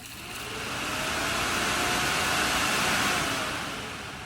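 An electric radiator cooling fan bought on eBay, fitted to a car, spins up into a loud, steady broadband whoosh of rushing air that swells, holds and then begins to fade.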